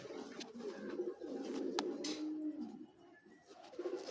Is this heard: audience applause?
no